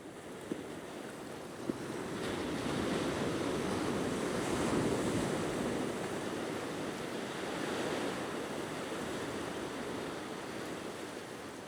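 Ocean surf rolls in steadily at Haukland beach in the early morning, a continuous broad wash of breaking waves with some wind noise on the microphone and no talking.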